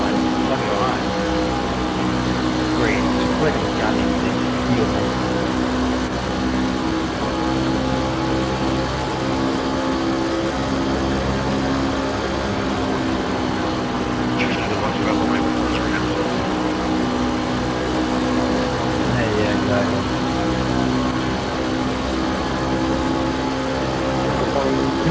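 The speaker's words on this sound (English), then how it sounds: "Listen to the engine." Race truck engine droning steadily through an onboard lap at Chicagoland Speedway, a loud, continuous held note with little change in pitch from start to finish.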